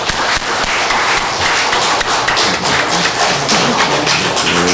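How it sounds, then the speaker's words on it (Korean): A church congregation at a Korean Baptist founding-day service in New Jersey breaks into warm, sustained applause to welcome the pastor, dense clapping filling the room for several seconds. "우리 뜨겁게 박수로 목사님 환영해 주시면 좋겠습니다"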